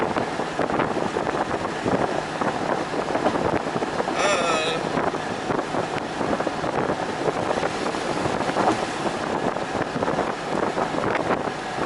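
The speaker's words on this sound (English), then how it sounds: "Just enjoying the wind. You know, the feeling of wind caressing your body." Wind roars past an open Porsche 911 at about 80 km/h as a steady, loud, broadband rush with heavy buffeting against the microphone, continuous throughout.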